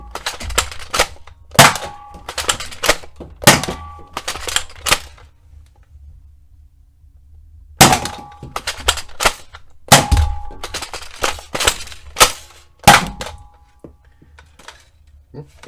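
A modified Sentry X2 toy blaster fires several sharp, punchy snaps, one by one and in short clusters with pauses between, and voices talk between the shots.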